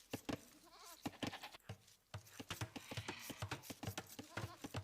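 Goats bleat repeatedly in Age of Empires, a busy chorus of short wavering cries overlapping one another over a low game hum, with faint talk mixed in.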